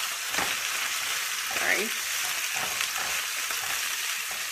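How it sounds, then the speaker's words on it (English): Red potatoes sizzle steadily in a skillet, a continuous broadband frying hiss with occasional stirring scrapes, and a voice briefly says a word partway through. "tonight I am making some skillet potatoes"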